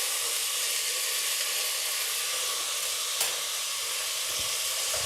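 Mint leaves dropped into a pan of chicken curry give a loud, continuous sizzling hiss of frying, steady throughout, with a brief soft knock near the end.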